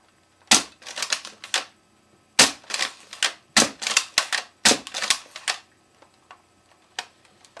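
A new crossbow is fired into a shirt, several sharp, snappy cracks and clacks arriving in quick bursts at close range, followed by a few fainter ticks, with no voices.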